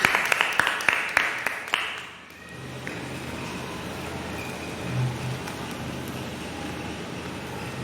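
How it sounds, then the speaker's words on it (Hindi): Church congregation giving loud applause, a burst of dense clapping for about two seconds that then fades into a quieter room murmur with low background noise. "तो हम वचन में जाने से पहले परमेश्वर का जोरदार तालियों से स्वागत करते हैं।"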